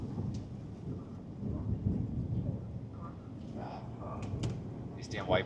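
Thunder from a storm ahead rumbles low and steady for several seconds, heard from inside a moving car, with faint rain taps and scattered small clicks over it, fairly quiet overall.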